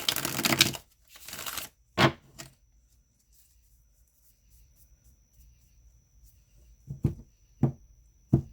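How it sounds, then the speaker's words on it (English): Tarot cards riffle and shuffle in a couple of quick bursts, then a quiet pause, followed by a few soft taps and slaps of cards being laid down. "Last shuffle, and then we'll take a look."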